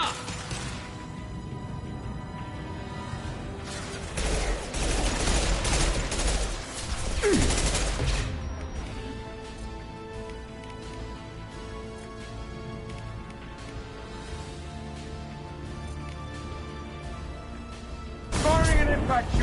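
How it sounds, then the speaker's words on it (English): Gunfire and explosions from the video game Mass Effect 2 sound as bursts of shots and crashes over a busy battle background, with a voice talking over the action. "Firing an impact shot."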